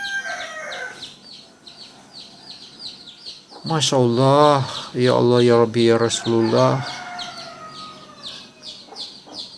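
A newly hatched chick, weak and abandoned by its mother hen, chirps in repeated thin high peeps throughout, close by, while someone speaks in a low voice, with a louder burst of calls in the middle.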